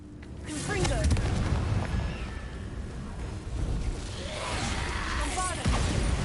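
Bombarda blasting spell going off in Hogwarts Legacy, a booming explosion with crackling debris, followed by further magical blasts and impacts, loud and close, with game voices mixed in.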